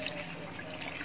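Water pours steadily into a cooking pot while bangus sinigang is being made, a soft continuous trickle close by with no one talking.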